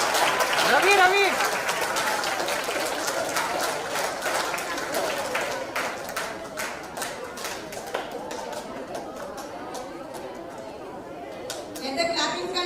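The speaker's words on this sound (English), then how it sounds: "Let the clapping continue." Audience at a school event applauding with lively chatter and cheering, the clapping steady and close throughout, with a burst of excited voices at the start and renewed clapping near the end.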